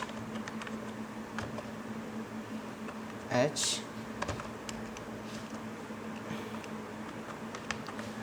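Someone types C program code on a computer keyboard, a steady, soft patter of key taps running under someone speaking throughout, against a low background hum.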